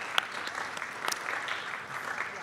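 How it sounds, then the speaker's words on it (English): A live-stream audience at an innovation competition claps for the participants, giving a steady, moderately faint round of applause with a few sharper individual claps standing out. "one more round of applause"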